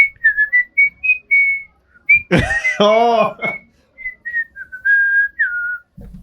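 A person whistles a short melodic tune in clear, bright notes, briefly interrupted by a loud exclamation in the middle before the whistling resumes.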